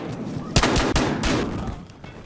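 Shotgun blasts in the multiplayer shooter Battlefield Hardline: a few sharp, loud reports spaced apart, each with a short decaying tail, heard alone.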